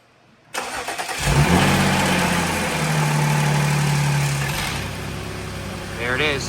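An Audi SQ5 engine fires up for its first start after a rebuild, catching abruptly and then settling into a steady idle with some mechanical chatter, loud and close.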